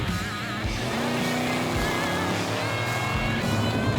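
A convertible Buick running at a drag strip during a Buick GS Nationals event, its engine roaring loud and steady with a rough rising drone, heard close and alone with no talk over it.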